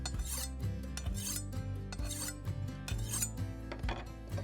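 A knife blade is stroked along a waxed diamond sharpening plate in steady back-and-forth rasping passes, each stroke a close, gritty scrape, with no talking.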